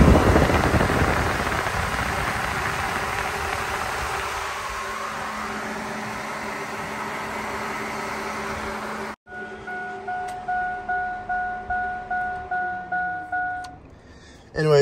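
Electric cooling fans on a Chevrolet Silverado, a loud steady whoosh of moving air that cuts off abruptly, leaving a fainter humming tone and a run of rhythmic pulses as the fans spin down.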